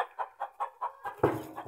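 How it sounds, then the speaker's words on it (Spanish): A hen clucking close by in a regular rhythm of about five short soft clucks, followed by a louder, rougher squawk near the end in an otherwise quiet setting. "Mira, otra gallina."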